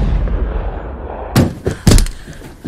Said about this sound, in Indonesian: Film diawali dengan suara tembakan